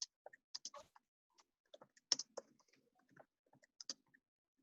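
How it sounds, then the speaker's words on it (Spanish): A computer keyboard tapped in sparse, irregular bursts of sharp clicks, faint and close, with short pauses between keystrokes. "Teclado que me está volviendo loca con los auriculares"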